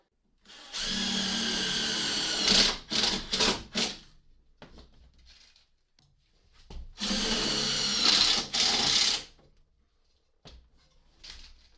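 A power drill drives small sheet metal screws during a motorhome rebuild, with two long whirring bursts, each ending in short stuttering pulses as the screw seats, separated by quiet gaps.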